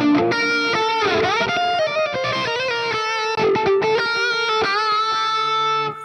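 Electric guitar played through a Valeton GP-200LT multi-effects unit with an EQ boost at 750 Hz, a loud, sustained, slightly distorted phrase of ringing notes and chords, close and alone.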